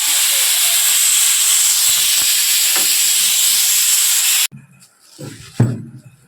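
A loud, steady jet of steam hisses from a pressure cooker's whistle in a home kitchen, while appam cooks inside. It runs unbroken for about four seconds and then stops abruptly, leaving quiet room sounds and brief faint voices.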